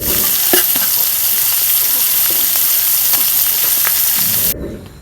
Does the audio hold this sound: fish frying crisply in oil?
yes